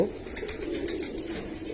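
Pigeons coo softly inside a pigeon farm shed in a low, rolling murmur, faint and continuous against a quiet background.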